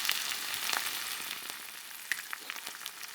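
Beaver meat, a fatty red-meat cut likened to thick bacon, frying in a pan with a steady, dense sizzle and scattered pops and crackles throughout.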